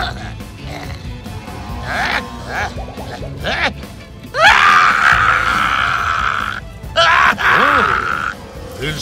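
A fire monster from the Gormiti Legends cartoon lets out long, loud, rasping roars and screams, mixed with grunts and groans, building to sustained bursts over dramatic cartoon action.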